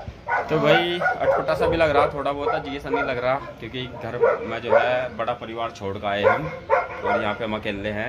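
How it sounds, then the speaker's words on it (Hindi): A dog barks continuously downstairs in a family home, heard under steady close-up conversation throughout. "कुत्ता नीचे भौंक रहा है लगातार"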